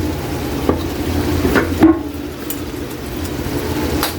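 Spring onion being stirred into octopus adobo simmering in a pan, with soft scraping strokes of a utensil over a steady low sizzle, close and moderately loud, with no talking.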